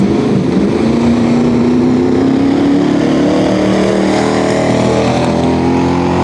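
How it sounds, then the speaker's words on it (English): An SUV engine roars in a drag race at a raceway, a loud, sustained drone that climbs steadily in pitch as it accelerates, with no pauses. "Let's see how this SUV does."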